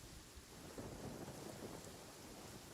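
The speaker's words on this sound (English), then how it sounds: "Is it supposed to be raining right now?" Steady rain hisses over a surface in the video game Genshin Impact, with low rumbling thunder rolling underneath, continuous and even throughout with no voices.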